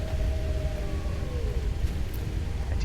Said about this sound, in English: I do hear wolves.